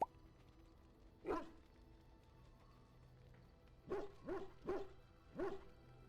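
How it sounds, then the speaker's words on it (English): A dog barks in the distance, one bark and then a quick run of four more, faint and somewhat muffled against quiet background noise, with no voices. "I wonder if she can hear the dog barking in my headphones"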